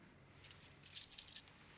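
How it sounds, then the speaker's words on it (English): A ring of keys jangles as it is handed over in a TV drama scene, a short burst of bright metallic clinks that peaks in two quick flurries against a quiet background. "Who'd have thought that someday I would be handing these keys to you?"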